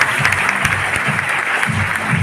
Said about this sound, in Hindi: एक बार उसके लिए जोरदार ताली बजाइए।